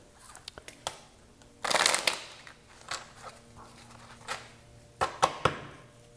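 A deck of tarot cards is shuffled by hand in close, quiet room tone, with scattered crisp slaps and riffles and one longer burst of rapid flutter partway through.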